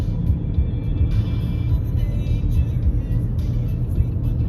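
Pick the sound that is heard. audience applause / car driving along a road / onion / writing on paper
car driving along a road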